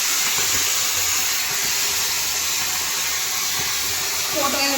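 Steam hissing steadily from a pressure cooker during mutton curry cooking, a loud constant rush filling the whole clip.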